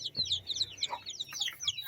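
Chickens in a backyard cluck softly and peep several times in quick irregular bursts, fairly close but quiet.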